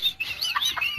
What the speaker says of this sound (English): Sound like the one budgie in the store that never gets bought